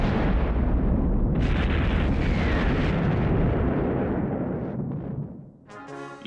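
Cartoon missiles launch with a long, loud, roaring explosion effect that fills the scene for several seconds before fading, followed by a brief tonal sound at the end.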